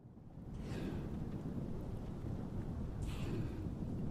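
Thunder rumbles through a storm in Microsoft Flight Simulator 2020, a low continuous roll that swells in after a quiet start, with a sharper crackle near the end and rain hiss beneath, no voices.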